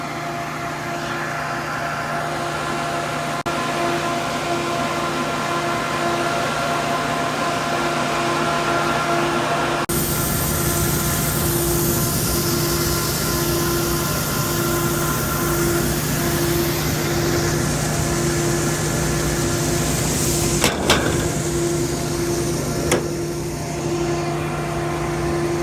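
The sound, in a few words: continuous flow grain dryer running on propane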